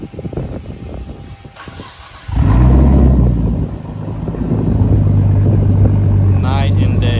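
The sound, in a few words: Nissan Skyline R34 engine starting with Tomei exhaust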